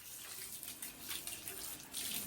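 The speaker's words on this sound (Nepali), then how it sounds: "खोर्सानी धुने गरेको छु है साथीहरु" Chillies are washed under cold tap water, a continuous faint hiss of running water splashing into a sink with slight fluctuations, heard alone and quiet.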